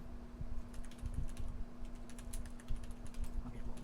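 Someone types on a computer keyboard in quick, irregular bursts of light clicks, fairly faint against a low steady hum, with no talking.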